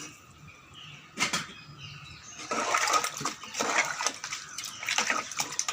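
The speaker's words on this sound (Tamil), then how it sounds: "இந்த டைம் நம்ம தேவையான தண்ணி ஊற்றிக்கும்" Water splashes and gurgles as it is poured into a pressure cooker for mutton head gravy, with uneven sloshing bursts and some clanks of handling, close by.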